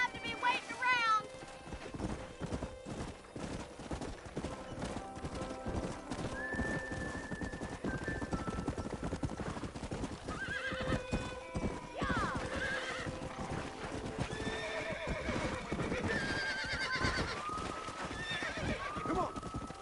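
Horses in Red Dead Redemption: rhythmic clip-clopping hooves throughout with a whinny near the start, close and continuous, under intermittent character dialogue and musical tones.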